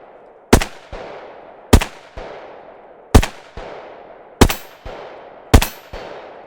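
A Desert Eagle pistol loaded with .357 ammunition is fired one-handed through a full magazine: five loud, sharp shots at steady intervals about a second apart, each followed by a quick metallic clack and a decaying outdoor echo.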